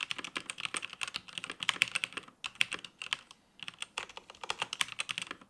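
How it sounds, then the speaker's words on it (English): Typing on an MSI Vigor GK41 gaming keyboard with linear switches, fast irregular bursts of crisp, close keystrokes with short pauses between words. "Here's a quick clip of me using the keyboard, kind of typing away so you can hear them yourself."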